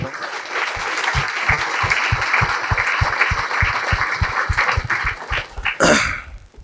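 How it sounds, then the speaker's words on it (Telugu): A hall audience at a meditation talk claps for Brahmarshi Patriji in a steady, rhythmic unison beat, loud and even for about six seconds before it breaks off into a brief burst of scattered claps. "బ్రహ్మర్షి పత్రిజీ ఒకసారి గట్టి క్లాప్స్ కొడదాం"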